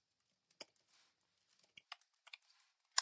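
Computer keyboard typing, a scatter of sharp, quiet clicks in irregular bursts with gaps between keystrokes, close and isolated.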